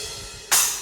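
A bright, splashy crash cymbal from a drum app bursts in after a moment of near quiet and rings on briefly.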